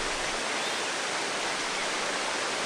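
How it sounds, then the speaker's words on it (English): A larger cascading waterfall in the game Tengami rushes steadily, producing a dense, loud, unbroken roar of falling water with no voices. "Oh, and a bigger waterfall."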